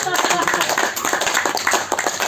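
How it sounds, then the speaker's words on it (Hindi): An audience at a yoga gathering claps together in a brief burst of applause, mixed with a speaking voice and loud room noise. "तो इनके लिए जोर से एक बार ताली बजनी चाहिए"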